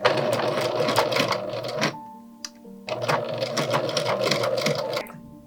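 A sewing machine stitches across doll overall straps, running in two steady bursts of rapid, close mechanical whirring separated by a short pause, with no talking.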